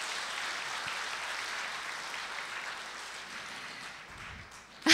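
An audience at a church praise concert claps in a steady, even wash of sound that holds for several seconds, then thins out just before a short, louder sound at the very end.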